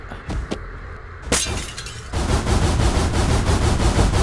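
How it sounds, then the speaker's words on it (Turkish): Loud, sharp video game shots ring out, then a sustained burst of rapid automatic gunfire rattles on steadily, close and intense. "Çatışma çıktı silah sesleri"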